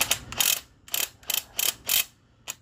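A ratcheting tool drives a lag bolt on a 1978 Ford F100, making a series of short, close mechanical clicking bursts in an irregular rhythm with brief pauses between them.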